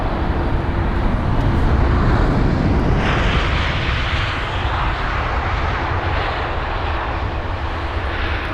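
Jet airliners on approach at London Heathrow roar steadily overhead, a loud broad engine rush holding for several seconds and shifting in tone as the aircraft pass, with no voices over it.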